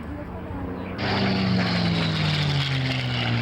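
A P-51 Mustang's propeller engine roars close by at an airshow, its drone rising suddenly and holding steady with a high whistling tone above the rumble.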